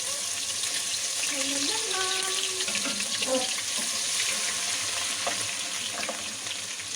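Ginger and garlic frying in hot oil in a pan for mutton kofta curry, giving a steady close sizzle with faint clinks and scraping underneath, no one talking.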